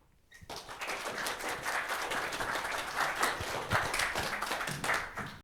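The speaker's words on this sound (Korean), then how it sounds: "오늘 강연 박수로 모시면서 함께 하시겠습니다" Applause from a lecture audience starts abruptly after a brief quiet and continues as dense, sustained clapping from the crowd for several seconds.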